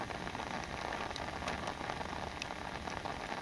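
Steady rain pours down onto surfaces during heavy late-night downpours and flooding, a dense, continuous hiss with scattered close drops pattering through it, with no voices.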